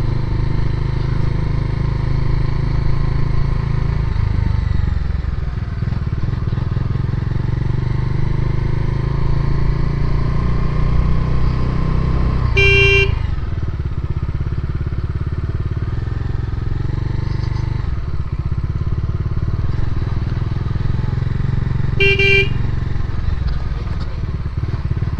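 A Bajaj Dominar 400 motorcycle on a solo ride, its engine humming loud and steady near the mic with wind rush, the pitch dipping and rising with throttle changes, and two brief high electronic beeps partway through.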